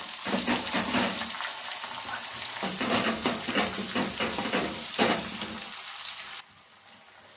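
Chopped onion, green chillies and curry leaves fry in hot oil with a steady, loud sizzle and occasional stirring scrapes for several seconds, then the sizzle drops to a quieter hiss near the end.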